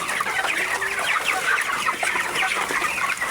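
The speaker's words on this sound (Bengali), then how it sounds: "দেখা গেল দেখছেন মুরগিটা কামাকামি করতেছে।" A flock of broiler chickens in a poultry shed clucks and chatters continuously, many overlapping close and mid-distance calls forming a busy, steady din.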